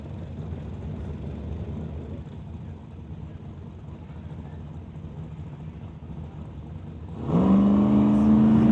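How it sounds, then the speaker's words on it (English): Drag racing cars launching with tire spin at a Limited Street qualifying event, a muffled, steady engine rumble under crowd noise that suddenly swells into a loud, rising roar near the end. "Justin Lee, blowing the tires off on the hit"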